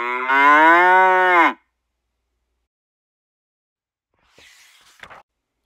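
A voice imitates a cow with one long, drawn-out moo, followed by silence and a few faint clicks and rustles.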